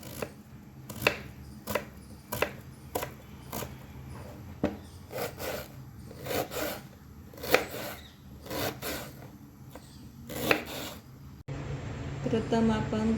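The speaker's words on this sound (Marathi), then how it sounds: "कांदा बारीक चिरून घेऊ." Knife finely chopping onion on a board for a Maharashtrian capsicum bhaji, with irregular sharp chopping strikes repeating for about eleven seconds, close and moderately loud over a low steady background hum.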